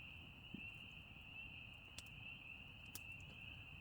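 Peat frogs calling at night around a campsite with a fire going, a steady high insect-like trill running continuously with faint scattered clicks and pops, moderately quiet and alone without talk.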